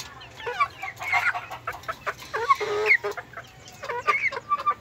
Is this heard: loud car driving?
no